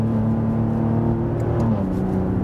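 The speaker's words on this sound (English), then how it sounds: "This V6 gives you enough sound, especially here in the third." A Maserati Levante S SUV with a 3.0-litre V6 revs loudly on a downshift from fourth to third gear in sport mode, a steady close engine drone rising and then easing over a couple of seconds.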